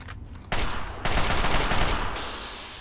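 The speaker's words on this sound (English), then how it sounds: "Guess it's up to the unique assault rifle then." An assault rifle in Fallout 3 fires in two rapid bursts, loud and close, followed by a short fading ring.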